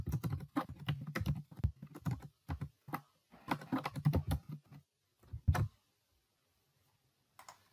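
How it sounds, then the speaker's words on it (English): Fingers type Python code on a computer keyboard in quick bursts of clicking keystrokes, close and clear, with a short pause before a final few taps. "Let me type it in."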